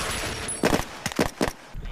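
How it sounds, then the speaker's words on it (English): A few sharp bursts of blank gunfire crack out in quick succession against a low background hum, spaced in short irregular volleys, on a TV drama set. "We had lots of active gunfire"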